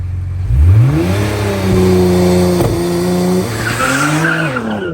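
A Nissan R35 GT-R on cheap tires launches hard, engine revving up through a gear change as the tires squeal and skid loudly, the note climbing again before easing off.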